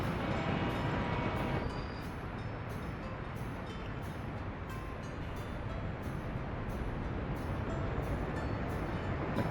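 A train in the video game Workers & Resources: Soviet Republic rolls steadily along, a continuous loud rumble with regular rhythmic clicks of wheels over rail joints, no talking.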